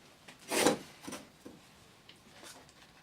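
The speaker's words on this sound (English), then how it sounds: "Now I'm switching to the 1200 grade wet and dry paper." Abrasive 1200 grade wet and dry paper rubbing over Perspex acrylic sheet, heard as a few short, soft rasping strokes, one stronger sweep followed by fainter, sparse scrapes in a quiet room.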